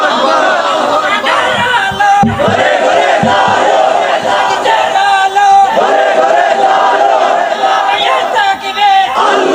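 Large crowd at an Islamic sermon gathering shouting the takbir, Allahu Akbar, in loud unison bursts over sustained crowd noise and a voice leading through amplification.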